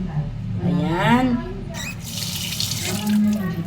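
Tap water runs into a cooking pot for a tomato and ginger broth, a steady close rushing stream whose pitch rises as the pot fills, with someone speaking over it.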